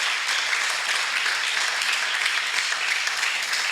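A church congregation applauds in a steady, dense burst of many hands clapping, fairly loud and even throughout with no voices standing out.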